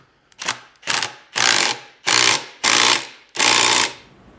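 A hydraulic press pushing a U-joint cup into a Jeep driveshaft yoke, six loud, close mechanical bursts in a steady rhythm, each lasting longer than the last, with no talking.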